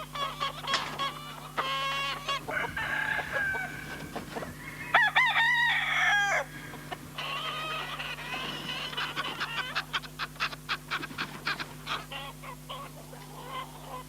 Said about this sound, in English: breeds chickens, fighting chickens at that